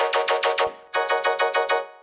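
Synth tone run through a Poly Flanger effect in Reason sounds as two bursts of rapid, evenly pulsing notes with a sweeping, swirling sheen and a short gap between them, bright and dry.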